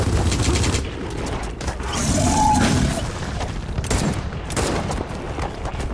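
Gunfire from the video game Gears of War 4 crackles in dense, overlapping bursts with heavy low booms, loud and continuous throughout.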